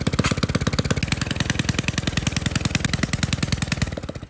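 A small gasoline engine running with its exhaust pipe removed while being checked for white smoke, giving a loud, rapid, even popping pulse that is harsh and close, steady throughout with no voices.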